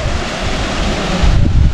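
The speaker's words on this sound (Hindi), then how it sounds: "मस्त फॉल्स है, वाह, छोटा सा फॉल्स है लेकिन बहुत अच्छा है।" A small waterfall in Mahabaleshwar, Satara, running low in summer, pours as a steady, loud broadband rush with wind buffeting the microphone and no voices.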